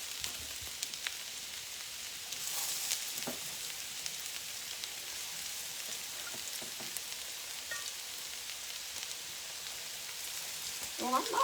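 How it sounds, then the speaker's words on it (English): Salmon patties fry in hot oil in a home kitchen, a soft steady sizzle with faint crackles running throughout, quiet and close with occasional utensil sounds. "I'm putting my patties in the oil."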